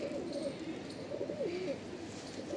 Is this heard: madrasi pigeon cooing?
yes